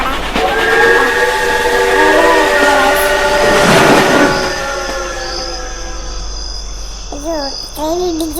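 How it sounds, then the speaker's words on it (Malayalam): A train in the horror video game Death Park sounds a long, loud whistle as it rumbles past, the whistle fading out midway, then a voice talks over the remaining rumble. "ഇതാണ് ട്രെയിൻ ഗൈസ്."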